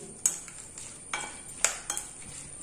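Pickle mixture with curry leaves being stirred for an Onam sadya vadukapuli lemon pickle, with soft scraping and a few sharp spoon-on-vessel clinks at irregular intervals, close and fairly quiet.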